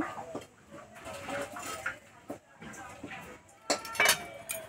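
Rice flour and potato dough is moved into another bowl, with scattered clinks and knocks of dishes and utensils, some scraping, and a sharper cluster of bright clinks near the end.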